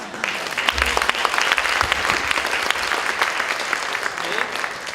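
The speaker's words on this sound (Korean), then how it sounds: "박수 한번 해요" A seated audience at a Korean next-generation networking conference breaks into steady applause, dense clapping filling the whole stretch with no voices heard.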